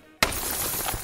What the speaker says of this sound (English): That's the sound of a glass ceiling shattering